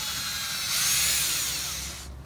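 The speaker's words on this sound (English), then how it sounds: "it kind of pains me to see you drilling on the car" A power drill whines steadily at close range while drilling into a car bumper for a quick-release install, rising in pitch midway and then easing off before stopping near the end.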